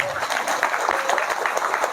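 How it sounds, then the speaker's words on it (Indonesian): Applause from a crowd at an Islamic religious gathering, a short burst of many hands clapping fairly close with a busy, even texture and no clear speech over it. "Datanglah, tepuk tangan dulu."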